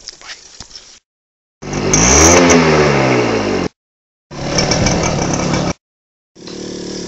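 A motorbike engine starting and revving hard in loud, sustained bursts, three distinct surges with brief silences between, close to the listener.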